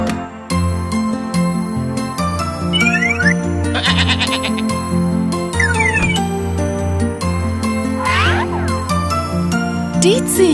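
A goat bleats in a loud, repeated series of calls with sheep-like tremolo, against a busy bright musical backing with jingling chimes throughout.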